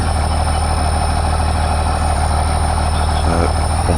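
A Cat Challenger tractor pulling a heavy subsoiler in a farming simulator game, its engine a loud, steady low drone throughout with a constant hum and no gaps.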